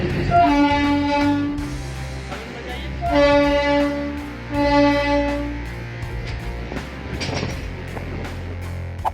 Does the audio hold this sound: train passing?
yes